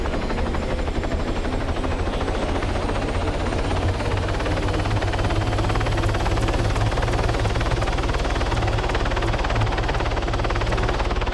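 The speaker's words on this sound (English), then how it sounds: "I'll give them a bigger aircraft next time." A helicopter flies in a military video game. The steady, loud rotor chop and engine roar run unbroken throughout.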